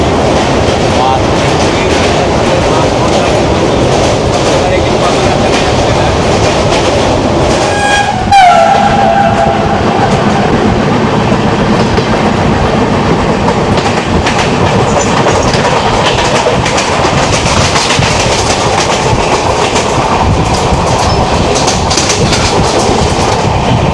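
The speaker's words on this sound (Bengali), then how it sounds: "এই দার্জিলিং মেল সবথেকে বেস্ট ট্রেন" The Darjeeling Mail passenger train rolls along with a continuous loud rumble and rattling clatter of the cars, and a brief horn blast sounds partway through.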